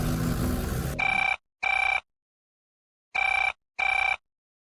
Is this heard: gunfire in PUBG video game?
no